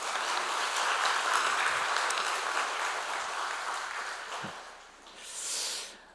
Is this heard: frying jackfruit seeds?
no